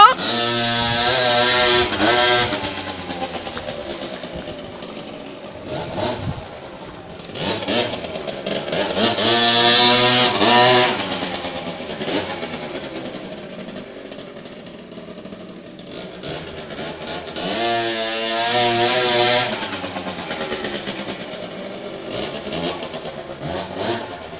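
A motocross motorcycle engine revs hard in repeated surges, rising to loud whining peaks and dropping back, close by with no talking.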